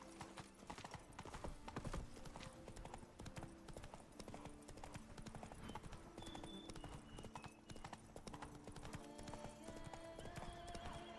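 Roach, a horse in the video game Witcher 3: Blood & Wine, gallops in a fast, steady clip-clop of hooves with an occasional neigh, layered over a continuous game music bed.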